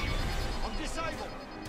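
Ion missiles strike the player's starfighter in the Star Wars: Squadrons game with heavy crashing, rumbling impacts and electronic crackle, set among game noise and voices.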